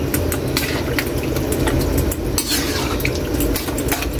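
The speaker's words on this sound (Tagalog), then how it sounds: "Ginigisa muna natin siya para mas bumango." Santol being sautéed for sinigang in a pot, a steady close clatter of stirring and scraping with a faint sizzle running the whole time, no voices.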